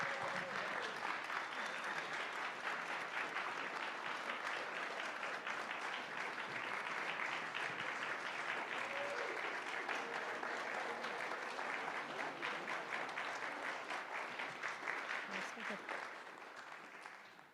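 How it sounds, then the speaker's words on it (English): Audience applause at a congregation's celebration honoring Dr. King's legacy, sustained, even clapping from a full room lasting many seconds before tapering off at the end. "Now you may applaud."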